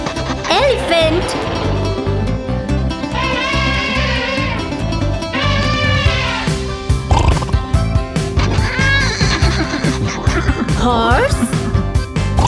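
A cartoon horse neighs and whinnies amid steady background music, with rising and falling calls repeated several times across the clip, the clearest near the end.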